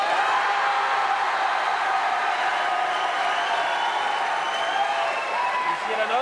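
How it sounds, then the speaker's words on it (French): A studio audience on a French television variety show applauds steadily for a contestant during an applause-meter vote, a dense, even wash of clapping and cheering that holds the whole time with no letup. "Nous allons faire l'applaudimètre pour Richard d'abord et pour Sonia ensuite"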